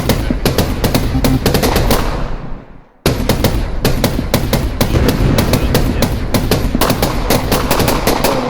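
Laser gun fire in a video game crackles in rapid, loud bursts with booming explosions from a chain of explosive barrels, cutting briefly to near silence before the dense barrage resumes.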